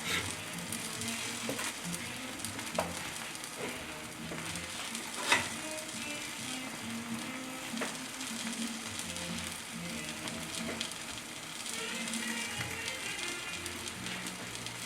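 Sausage and egg omelette mixture frying in a pan over lowered heat, a steady soft sizzle with crackles and occasional pops, close and continuous without talk.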